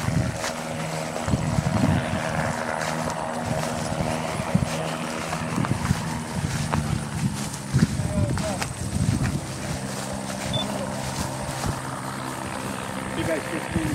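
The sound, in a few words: aircraft coming in for a landing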